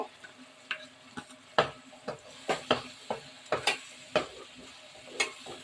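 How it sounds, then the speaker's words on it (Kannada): Tomato puree for chana masala frying in a pan, with a soft steady sizzle beneath repeated sharp scraping and stirring strokes from a spoon against the pan, irregular and close. "टमाटो प्यूरी की कच्चापन पूरा जाने तक इसको हमें भूनना है"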